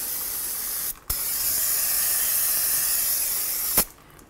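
Aerosol brake cleaner sprayed onto a rear brake caliper of a 2007–2014 Ford Edge, a steady loud hissing blast lasting a few seconds, cut by a brief pause and ending with a short final burst.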